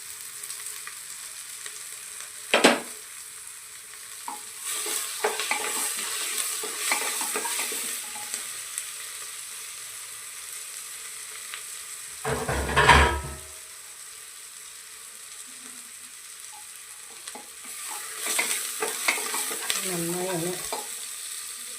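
Onions fry in a pan for a chicken curry, a quiet continuous sizzle broken by scraping stirs and a couple of louder knocks against the pan, with no voices.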